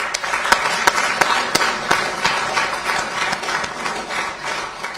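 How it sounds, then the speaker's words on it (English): Applause rings out at an inauguration ceremony, a crowd clapping with a few loud, distinct claps punctuating the steady spread of hands, fairly close and continuous. "can we give a big round of applause to our former Permanent Secretary, Dr. Yusufa Ture, here present"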